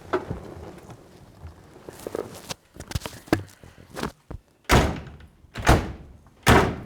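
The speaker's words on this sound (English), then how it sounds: "Slam the doors." Doors on an HQ Holden GTS Coupe are shut several times with loud, close, solid thunks. Slams and lighter knocks come in an irregular sequence, the heaviest three landing near the end.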